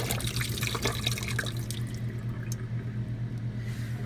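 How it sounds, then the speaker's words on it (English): Butter being rinsed under running tap water, a steady broadband splash and trickle filling the whole stretch with faint dripping accents, continuous and close, with no voices. "And we're rinsing again."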